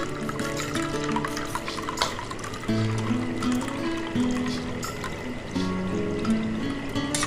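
Strained water from boiled onions is poured into rice milk for a homemade hair conditioner, a close liquid trickle and gurgle under soft music-like tones, in uneven bursts.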